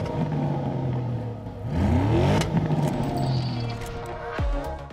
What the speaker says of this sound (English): The Cayenne GTS comes with a specifically attuned sport exhaust system fitted as standard.